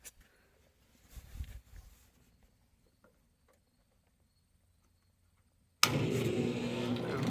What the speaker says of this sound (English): I'm going to turn it on here and see what she does